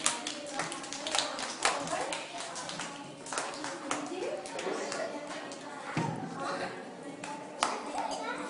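At a child's fourth birthday party at school, hands clap in scattered, uneven bursts close by, mixed with children's and adults' chatter and cheering throughout.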